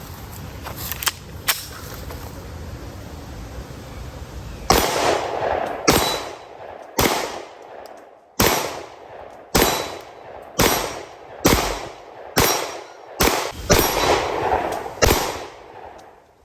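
CZ P-07 9mm pistol firing on a range: a few scattered shots at first, then a steady run of about nine loud, sharp reports spaced roughly a second apart, each with a brief echo, no speech.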